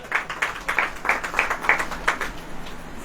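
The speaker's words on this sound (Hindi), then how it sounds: "अब ताली बजाओ" A church congregation clapping at a sermon, a faint, rhythmic run of handclaps in regular beats heard from a distance, with no voices over it.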